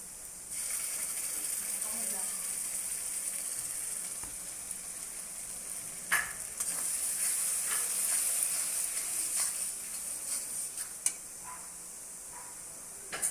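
Onions sizzle and fry in a pan for a chicken curry, a steady close hiss running throughout with a few brief clinks and stirring scrapes midway.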